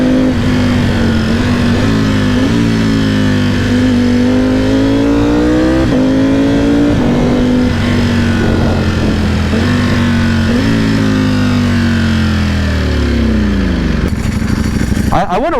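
A 2020 Ducati Panigale V4R fitted with an Akrapovic race exhaust roars steadily while riding, its engine pitch rising and falling through gear changes, loud and close for most of the run before dropping away at the end.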